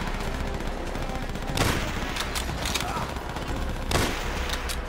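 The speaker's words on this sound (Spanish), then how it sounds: "¡Ametralladora en el primer piso!" Gunfire from a machine gun nest on a building's first floor in the World War II shooter Call of Duty: World at War, heard as dense, continuous battle noise with louder bursts near 1.6 and 4 seconds.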